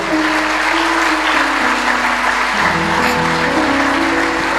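Church congregation clapping loudly and continuously, a dense steady wash of applause with a sustained tonal drone, likely organ or keyboard, holding underneath throughout.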